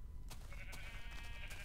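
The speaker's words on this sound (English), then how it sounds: "Sheep!" A Minecraft sheep bleats a few times, wavering cries rising over a noisy in-game background, faint and somewhat distant.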